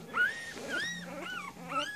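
A young puppy gives low, thin growls that slide into high, wavering whimpers, close and soft, with several short vocal bursts in a row and no talking.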